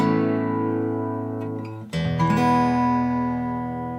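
An acoustic guitar plays a few sustained notes, letting them ring, then a new note is plucked and rings out as the sound slowly fades.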